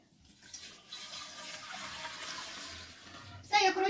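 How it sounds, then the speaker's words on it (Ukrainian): Homemade fermenting grape wine pours steadily into large bottles with a soft gurgling rush, ending in a brighter splashing burst, close by and without talk. "І тепер буду розливати по бутлях."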